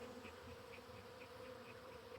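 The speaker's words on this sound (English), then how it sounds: "Look at all them bees." Angry honey bees swarm at an opened hive during an inspection, their dense, steady buzzing droning on without a break and filling the whole moment at close range.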